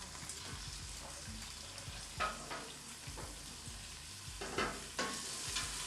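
Carrots frying in a pot as pasta Bolognese gets underway, a soft continuous sizzle broken by several scraping stirs of a spoon, close and fairly quiet with no talking.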